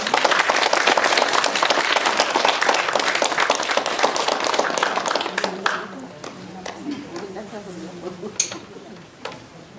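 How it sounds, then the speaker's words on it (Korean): An audience in a lecture hall applauds to welcome a guest speaker, a full burst of many clapping hands that tapers off and fades as a voice starts speaking. "우리 박학근 선생님 박수로 좀 모시도록 하겠습니다."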